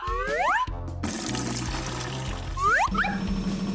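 Water pouring and splashing while stained clothes are washed, a steady rushing flow framed by short rising whooshing sweeps at the start and near the end.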